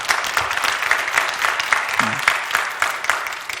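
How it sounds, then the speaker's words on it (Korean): A church congregation applauds medical staff and nurses with steady, continuous clapping heard at moderate loudness, with a brief voice murmur partway through. "우리 의료진, 간호사님들, 이 고마운 영웅들에게 한 박수 한번 합시다."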